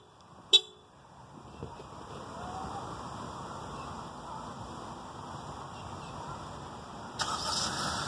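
A 2018 Honda CR-V is remote-started from its factory key fob: a sharp chirp, then the engine cranks and settles into a steady, fairly quiet idle, with another brief chirp near the end.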